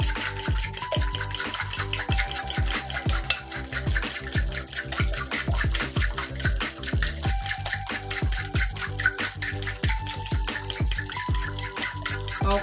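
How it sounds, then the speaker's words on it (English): Eggs whisked in a bowl, a rapid steady rhythm of light clicking strokes against the bowl, close and continuous throughout with a faint background tone. "I have the eggs here in my bowl, and I'm just going to scramble them"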